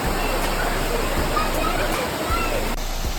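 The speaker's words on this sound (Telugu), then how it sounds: "వాటర్ ఫాల్ చిన్నదే, కానీ మీకు టైం ఉందనంటే పోవచ్చు" A small waterfall by a hilltop Hanuman temple in Andhra rushes in a steady, close, broadband wash of falling water, with faint voices beneath it.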